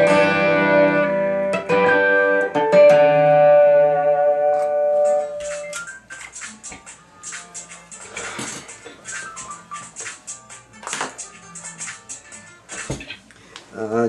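An electric guitar played through a Zoom G5 multi-effects unit on its MS Echo Z delay patch. Ringing picked notes with echoing tails give way to a faster, choppy rhythmic passage, heard close and alone.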